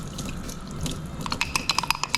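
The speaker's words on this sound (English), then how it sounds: "And we're gonna add some water now." Water is poured into cornstarch in the kitchen to make a slurry for thickening a sauce, a soft steady trickle that turns into a run of small splashy drips at the end.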